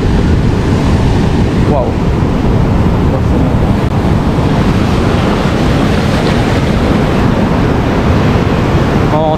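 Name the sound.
rolling waves by a wild river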